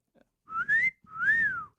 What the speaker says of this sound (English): he gave a whistle.